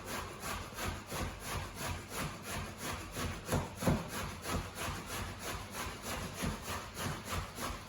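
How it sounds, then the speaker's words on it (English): A zucchini rubbed against a metal grater, its round end shredded in steady rhythmic rasping strokes, close and fairly loud with no talking. "I'm holding this part of the zucchini and I'm grating the round part at the end."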